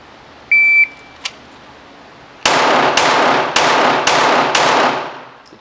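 A pistol fires five sharp, loud shots in quick, evenly spaced succession on a 5-yard, five-shot timed drill, preceded by a short electronic shot-timer beep.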